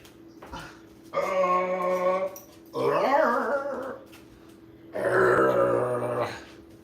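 A person imitates a dog's growl with three separate drawn-out, raspy vocal growls, each lasting about a second and a half, with short pauses between them.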